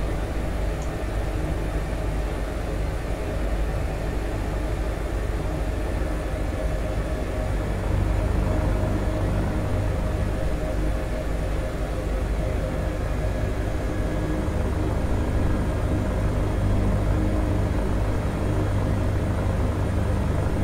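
An Airbus H145 helicopter engine in Microsoft Flight Simulator drones steadily with a continuous turbine whine and rotor rumble, loud and unbroken for the whole stretch.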